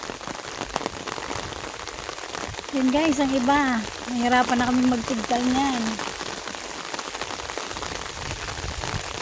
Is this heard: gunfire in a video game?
no